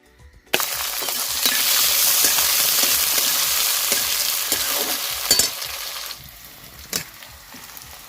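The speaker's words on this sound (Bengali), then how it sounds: "পেঁয়াজটা হালকা ভাজা হয়ে গেছে" Onions fry and crackle in a pan, a loud sizzle that starts abruptly, joined by spatula scrapes and knocks as they are stirred, then fades toward a quieter hiss.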